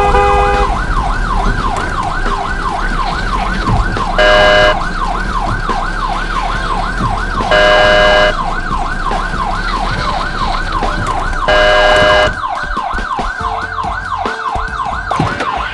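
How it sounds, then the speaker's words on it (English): Ambulance siren from the video game Sneaky Sasquatch, a steady loud wailing tone cycling up and down continuously, with three short bursts of a higher electronic alarm layered over it. "Last vehicle is the ambulance."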